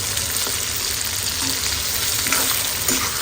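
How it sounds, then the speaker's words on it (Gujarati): Tomatoes roast in a hot pan for paneer tikka masala until their skins split, giving a steady, close sizzle and crackle with a few soft stirring scrapes, no voices. "જો આવી રીતે ટામેટાના છોડા અલગ થાય એવું આપણે ત્યાં સુધી શેકીશું."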